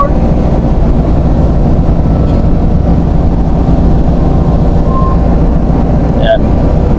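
A ship's thrusters push at full thrust to port while undocking, a loud constant low rumble with wind buffeting the microphone throughout.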